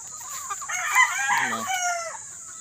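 Backyard game farm hens and an original red game farm rooster: a rooster crows once clearly nearby, with hens clucking around it and steady insect-like background hiss.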